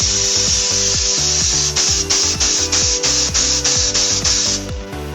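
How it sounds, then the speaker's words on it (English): A spray gun being triggered with air connected on a BECCA S700M manual solvent spray gun cleaner, expelling cleaning solution in a loud, steady hiss that repeatedly pulses on and off over a rhythmic mechanical thumping. "With the air still connected, trigger the spray gun to expel the solution."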